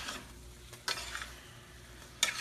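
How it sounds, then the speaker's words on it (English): Penne being stirred into a gorgonzola cream sauce in a pan over a low flame: soft, wet scraping with a faint simmer, plus a couple of brief sharper clinks of the spoon, close and quiet with no talking. "On a low flame, just to keep it hot. And mix it all together."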